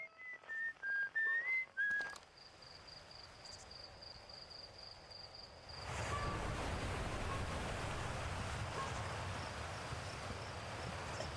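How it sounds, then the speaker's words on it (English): A whistled tune drifts from a moon asteroid in the Outer Wilds video game, a few clear melodic notes at the start before fading into a soft, hissing space ambience that swells later. "The moon asteroid is whistling."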